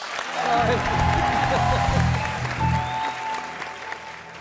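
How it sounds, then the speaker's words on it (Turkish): An audience applauds Hayrettin on the Turkish television talk show Beyaz Show, a dense, steady clapping that fills the whole stretch while a voice talks over it. "Hayrettin'e bir alkış"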